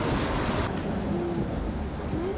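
River flowing beside an outdoor restaurant in Cappadocia, a steady rushing wash of water that stays continuous and moderately loud throughout, with no voices and a few faint tonal sounds in the background.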